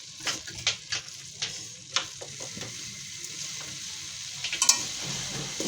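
Chicken and vegetable filling for roll samosas frying in a pan, soft steady sizzling with intermittent clicks and scraping stirs from a utensil, fairly quiet and close.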